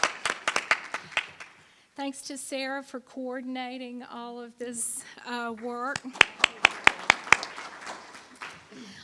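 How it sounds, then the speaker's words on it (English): Scattered clapping honours volunteers at a 2014 North Carolina assets and financial capability conference. A few crisp claps come first, a person speaks in the middle, and then a brief run of louder claps follows. "If y'all would help me give them a round of applause."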